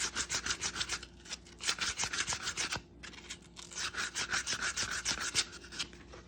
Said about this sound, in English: Take some 220 sandpaper, smooth it out even more.